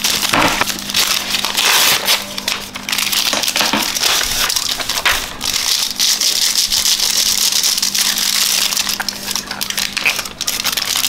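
A very large chocolate being broken apart by hand, with dense crackling, snapping and crinkling noises running continuously up close.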